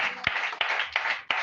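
A church congregation claps in a few rhythmic bursts, sharp hand strikes standing out over a bright wash of clapping, moderately loud and without talk.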